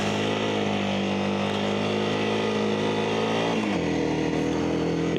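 A motorcycle engine revs hard in first gear, a loud sustained buzzing drone that holds steady and then drops in pitch as the rider eases off, heard on a beach ride on Chiloé Island.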